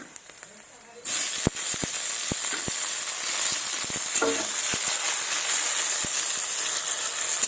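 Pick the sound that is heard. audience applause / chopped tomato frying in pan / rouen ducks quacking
chopped tomato frying in pan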